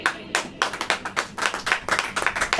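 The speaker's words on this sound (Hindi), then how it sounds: "ताली बजाइए।" A church congregation claps their hands during a sermon, a run of sharp, fairly close handclaps in a loose, steady rhythm with no voices over them.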